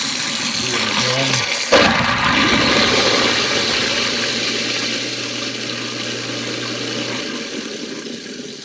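Running water pouring through a kitchen garbage disposal while it grinds leftover ice, a steady loud rush with a low motor hum that fades slightly toward the end.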